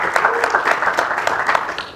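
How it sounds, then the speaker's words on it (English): Dense audience applause at a live event, many hands clapping steadily and fairly loud throughout, with faint voices mixed in. "Another round of applause, please."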